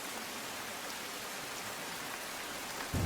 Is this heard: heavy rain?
yes